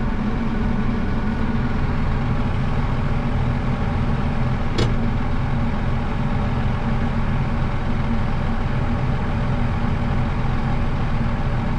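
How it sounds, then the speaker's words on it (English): Heavy farm machinery rumbles steadily at harvest time, the low engine drone of combine harvesters passing nearby, constant and loud with one brief sharp click partway through. "We got a combine versus the combine."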